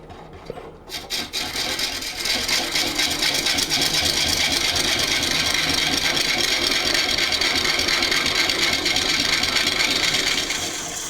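A wood lathe cutting a recess into a melted burl platter, a loud sustained scraping rasp of the tool against spinning wood over a low motor hum, steady for several seconds after a brief start.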